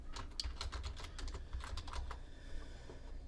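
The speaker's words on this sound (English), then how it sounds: "So I type that in, I click OK, and it puts the font here for me." Typing on a computer keyboard gives a close, quiet run of quick irregular key clicks that then trails off, with no voice.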